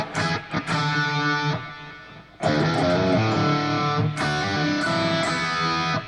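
A heavily distorted electric guitar plays a loud, dense riff in E with sustained crunchy chords and a brief quieter gap midway.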